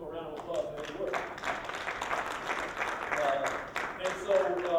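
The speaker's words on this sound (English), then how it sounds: "Let's give him a round of applause for his work." An audience at a Martin Luther King Jr. Day memorial program claps in sustained applause, a busy patter of many hands that holds steady for several seconds, with voices mixed in.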